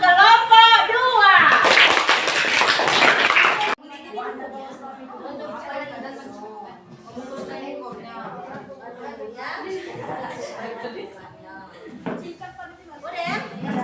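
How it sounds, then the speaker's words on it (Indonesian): A classroom of children claps for a group of students, a loud burst of applause lasting around two seconds, followed by children chattering and a teacher talking. "Tepuk tangan untuk kelompok 2."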